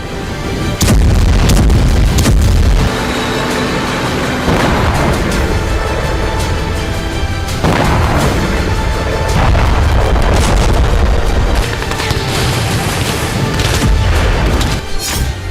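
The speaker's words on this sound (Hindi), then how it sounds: "वोलोदर रूसी फौज की आर्टिलरी प्रहार से जल रहा है" Russian artillery strikes on Vuhledar, Ukraine, heard as loud, dense rolling booms and blasts that repeat over and over amid continuous rumbling, crackling battlefield noise.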